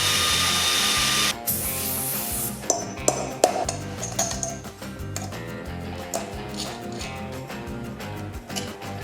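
A Black & Decker power tool works on brake rotor bolts of a Yamaha MT-07 motorcycle, opening with a loud, continuous whirring burst that cuts off into scattered metallic clinks and brief tool whines.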